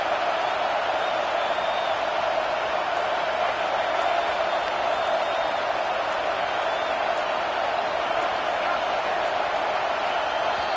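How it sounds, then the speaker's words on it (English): Stadium crowd noise from the Madden football video game forms a dense, steady roar that holds at a constant loud level from start to finish, with no commentary over it. "Decibels rising as the crowd gets behind this defense on third down."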